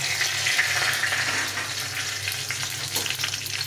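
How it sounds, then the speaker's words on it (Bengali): Whole spices, bay leaf, cumin, cardamom, cinnamon and dried chili, sizzle and crackle steadily in hot oil, a close, continuous frying hiss with a low hum beneath and no voices. "প্রথমে আমি দিয়ে দেবো এখানে তেজপাতা, জিরে আর দুটো এলাচ, একটু দারচিনি, শুকনো লঙ্কা"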